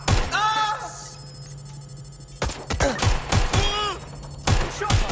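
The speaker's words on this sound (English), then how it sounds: "Gunfire." Bursts of gunfire in the video game Watch Dogs: Legion, sharp loud cracks in clusters separated by brief pauses, with electronic tones and effects in between.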